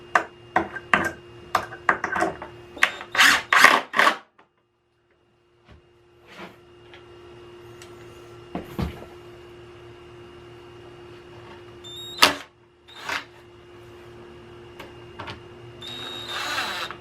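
A power drill drives screws to assemble a router cabinet built from a benchtop router table, with a quick burst of short whirring runs, then a steady low hum with sporadic clicks and a few more brief drill bursts.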